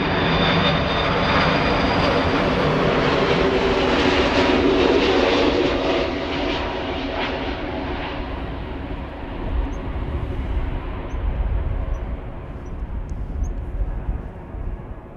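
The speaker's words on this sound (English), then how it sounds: "As always, it's an A330, 2 hours 51 minutes." A Turkish Airlines Airbus A330 airliner at Amsterdam Schiphol roars loudly with a broad, steady jet engine rumble, then slowly fades and thins as it moves away, without any talk.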